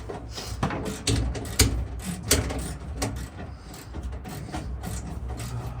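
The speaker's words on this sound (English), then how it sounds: "Pass me the ratchet then" A ratchet wrench undoing screws while a van is stripped out for a campervan conversion, giving irregular bursts of sharp mechanical clicking and clattering close by, with short pauses between the runs of clicks.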